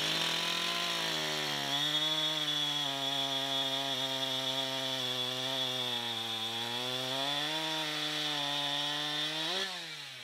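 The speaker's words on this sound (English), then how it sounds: "Let's go see how much faster this chain is in that 13 inch log." A freshly sharpened chainsaw bites steadily through a 13 inch log, the engine holding a loud, even snarl under load before revving up and dropping off at the end, with no talk.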